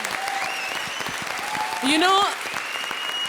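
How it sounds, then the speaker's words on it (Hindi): Applause from a comedy show studio audience runs on under a voice speaking briefly, with a tonal musical swell rising in the middle. "जोरदार तालियां"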